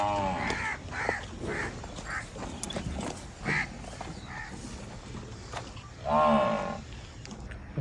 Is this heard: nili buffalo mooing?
yes